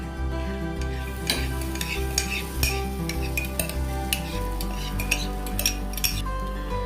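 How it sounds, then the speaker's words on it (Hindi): Egg batter sizzles on a paratha frying in a pan, a steady close hiss under a low hum, punctuated by light scraping and tapping from a utensil every second or so. "उसी सूखे वाले जगह के ऊपर मैंने जो अंडे का बैटर बनाया था वो बैटर डाल दूंगा।"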